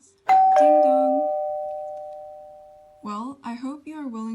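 A two-tone doorbell chime rings once, two struck notes whose tones ring out and slowly fade for a few seconds before people begin talking.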